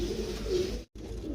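A pigeon coos close by, a low continuous rolling coo broken by a short silent gap.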